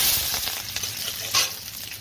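Black cumin seeds, chopped onion and chili hit a hot oil-filled pan and sizzle loudly, a bright continuous frying hiss with small crackles and a brief stirring flare near the end, and no voices.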